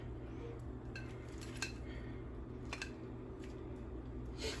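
Serving utensils clink and scrape faintly against dishes while New Orleans BBQ shrimp is plated, a few light metallic taps over a steady low room hum.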